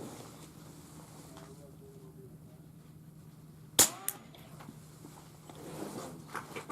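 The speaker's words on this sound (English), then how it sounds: "final test with the 22 long rifle pistol. Again, truly subsonic federal ammo" A single sharp suppressed shot from a .22 Long Rifle pistol with a Griffin Armaments Optimus suppressor firing subsonic Federal ammunition, a loud crack midway after quiet outdoor ambience, followed by a smaller click and faint rustling.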